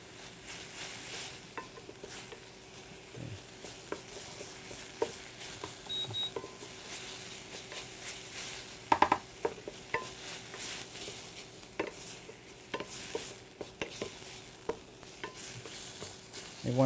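Minced onions for breakfast sausage frying in a pan, a soft steady sizzle with occasional scrapes and stirring clicks of a utensil, fairly quiet and free of talk.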